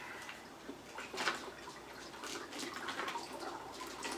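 Water spurts and drips out the back flush port of an MSR Guardian filter as it is hand-pumped outdoors, with soft splashy bursts coming in a loose rhythm, close by and fairly quiet.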